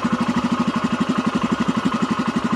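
Royal Enfield Himalayan motorcycle's oversized single-cylinder engine idling close by, a steady, loud, even thumping pulse with no other sounds.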